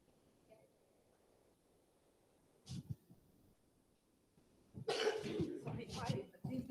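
A person coughs nearby, a short burst and then a longer fit of harsh, throaty coughs in an otherwise quiet room.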